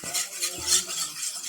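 Mixture being stirred right after white cooking oil is poured in, with a soft scraping swirl of a spoon against a pot, quiet and steady over a short stretch.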